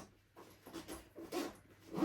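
A backpack zipper being worked around a tight corner on a travel personal-item bag, giving several short scratchy zip pulls in bursts at close range, with no talking.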